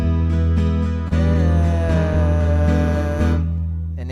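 Guitar chords strummed during a live lesson: a few loud, ringing strums that sustain and overlap, with fresh attacks about every second or so and no talking.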